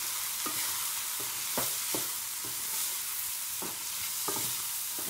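Cauliflower bhurji with tomatoes being stirred in a hot pan over high flame, with a constant bright sizzle and several soft, irregular scrapes of the spoon, close and without talk.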